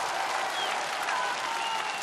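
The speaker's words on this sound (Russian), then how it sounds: "Аплодисменты города!" A concert crowd at a performance of wartime songs in Berlin breaks into a short burst of dense, steady applause, full and even throughout.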